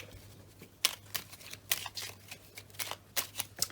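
Tarot cards are shuffled and drawn close up, making quick, uneven papery flicks and slaps over a low steady hum, with no voices.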